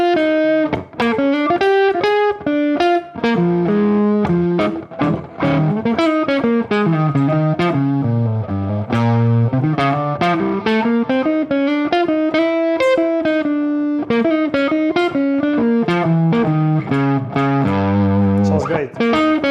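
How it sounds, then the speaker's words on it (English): An electric guitar with heavy distortion, played through a LAVA STUDIO amp, runs a continuous melodic riff of sustained, gritty notes, loud and steady throughout. "Let's try out something with more distortion."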